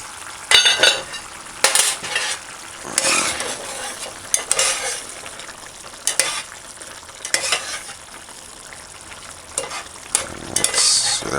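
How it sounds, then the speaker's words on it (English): Conch and okra brown stew for a Jamaican dinner sizzles and bubbles in a pot on medium-low heat, with steady frying hiss broken by louder bursts of stirring and scraping from a utensil against the pot. "Let's cover it and allow it to simmer"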